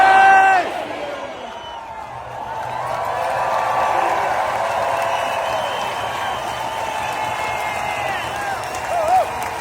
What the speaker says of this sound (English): Let's give another round of applause to Governor J.B. Pritzker